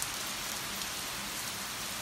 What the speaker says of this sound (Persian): ببینید بارون رو نگاه کنید